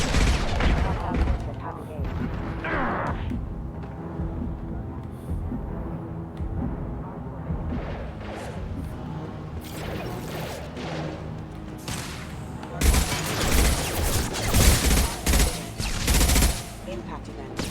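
Gunfire in the video game Mass Effect 2 crackles in rapid bursts and scattered shots, with heavier impacts near the end, loud and dense, under intermittent talk.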